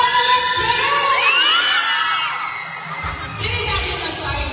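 A crowd of fans at a mall show in Mambusao, Capiz, shouting and cheering loudly together, with shrill whoops and screams rising and falling in two bursts close by.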